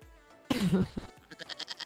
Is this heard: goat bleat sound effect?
yes